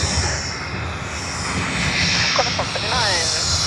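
A small aircraft at Sydney Airport gives a steady, broad engine roar that stays loud throughout, with radio voices talking over it.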